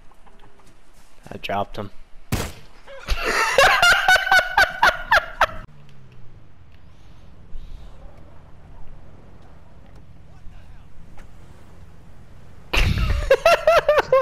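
Clucking, gobbling fowl calls from a chicken in a PS4 video game come in two loud bursts, a long run of calls early on and another near the end, with someone talking casually in between.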